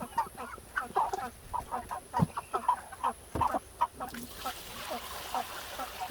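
Chickens being raised for meat cluck and chatter in an outdoor run on a hot day, a steady, busy flurry of short close calls with some louder squawks and a hiss of background noise.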